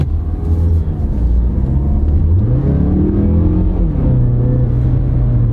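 A car with a 6-speed automatic accelerates from a stop after being shifted into drive. The engine rumbles loud and close, revs climb, drop at a crisp upshift, then climb and settle again, with no talking.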